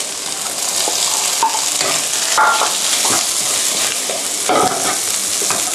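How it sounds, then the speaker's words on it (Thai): Rice and egg being stir-fried in a pan over high heat, with a continuous loud sizzle and scraping stirs and spatula clinks repeating irregularly throughout. "แล้วก็จะตามด้วยนี่นะครับข้าวพร้อมไข่ไปเลย"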